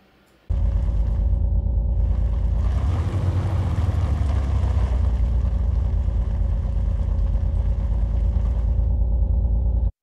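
A simulated car engine and wheel-on-dirt rolling sound built with Unreal Engine MetaSounds, a loud, steady low engine rumble with a rising tone that starts abruptly, holds for about nine seconds, then cuts off.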